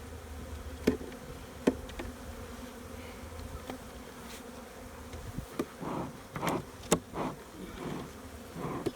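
Honey bees buzz steadily around an open hive during an inspection, a dense close drone with occasional louder passes as individual bees fly near, plus a few sharp knocks of hive equipment.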